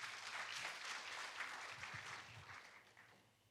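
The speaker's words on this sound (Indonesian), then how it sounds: "Kasih tepuk tangan buat Tuhan kita." A church congregation applauding during a service, a short, moderately dense burst of clapping heard at a distance and fairly quiet, fading away toward the end.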